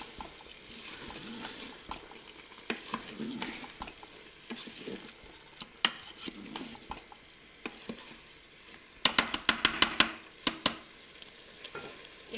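Paella ingredients seasoned with salt and pepper are stirred in a hot pan, giving a soft continuous sizzle with scraping and clinking of the utensil, plus a brisk cluster of sharper scrapes near the end.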